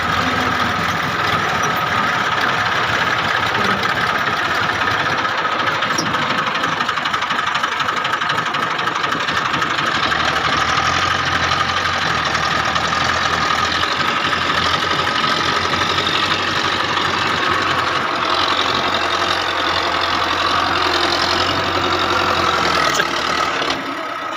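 A Belarus 510 tractor engine runs steadily throughout, a low rumbling idle with a knocking mechanical texture and no voices.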